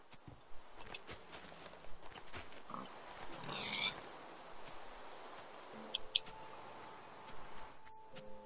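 A pig in the Minecraft survival game grunting softly amid scattered footstep-like clicks and light rustling, faint and intermittent against a quiet background.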